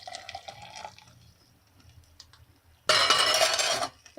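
Boiled water heated on an alcohol stove burning hand sanitizer, poured from a small pot into a cup in one brief close splashing gush after some faint clinks.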